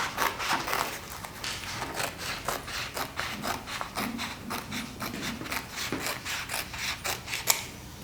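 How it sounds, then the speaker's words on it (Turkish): Scissors snip through excess material from a bag being made, giving a steady series of close, crisp cutting strokes in a soft rhythm with no talking. "eninin boyutunda şöyle fazla parçayı kesiyorum ki işim rahat olsun"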